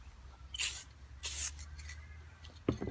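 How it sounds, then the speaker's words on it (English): An aerosol can of clear coat sprays light coats onto rocks and minerals, heard as two short, close hissing bursts about a second apart, with a faint clatter near the end. "Just give it light sprays, not too much at a time"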